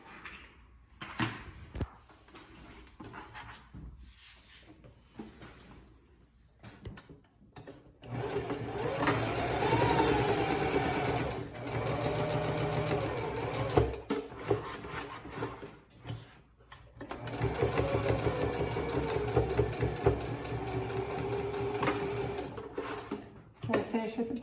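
A sewing machine stitching along a fabric edge of a whale stuffed toy, running in long whirring bursts separated by pauses with handling rubs and clicks, fairly close.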